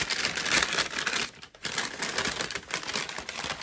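A paper bag crinkling as it is opened for a gift, continuous loud rustling and crackling with a brief pause midway, close to the listener and with no one talking.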